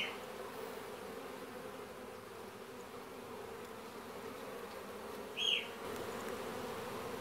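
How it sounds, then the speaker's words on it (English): Young honeybees flying near the hive on orientation and cleansing flights, a steady soft buzzing drone throughout with one brief louder pass close by, no voices. "They've come out for a fly around, they're just having a little bit of a rest, and then they'll most probably take off again and head back to the hive."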